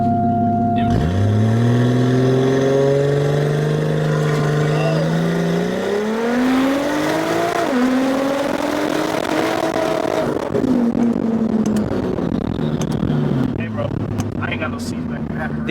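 A BMW car engine roars hard under acceleration, pitch climbing steadily through the gears with a shift midway, loud and close; voices talk over it.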